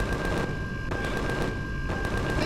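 Rapid gunfire in the sci-fi survival game Empyrion - Galactic Survival, a dense continuous burst of shots with steady loudness, broken by a couple of short gaps, no voices over it.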